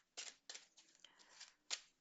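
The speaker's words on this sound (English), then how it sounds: "I will shuffle the deck as best as I can" Tarot card deck shuffled by hand, three or four quick riffling bursts with short pauses between them, close and fairly quiet, no talking.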